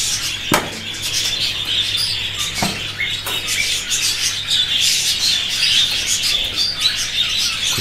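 Pet budgerigars chirp and tweet busily at feeding time, many overlapping high calls filling the air, with a few sharp clicks and knocks from the cage.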